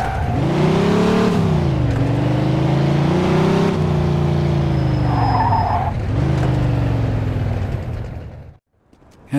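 Speeding car in Mafia 2 skidding during a police pursuit, a loud engine roar with rising and falling revs and tire squeals over several seconds, cutting off abruptly near the end.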